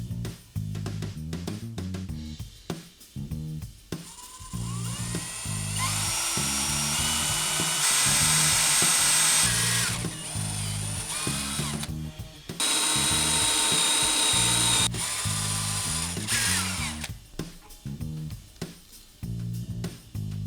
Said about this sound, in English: Drill a hole for each retainer bolt using a 6mm or 1/4 inch bit.